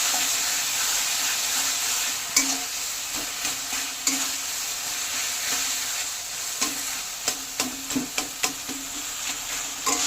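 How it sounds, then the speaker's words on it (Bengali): Fried prawns, for a taro-leaf prawn dish, are stirred with spices in a hot kadai: a constant sizzle with sharp spatula scrapes and taps against the pan that grow more frequent toward the end. "ভাজা চিংড়ি মাছ সব দিয়ে দেবো।"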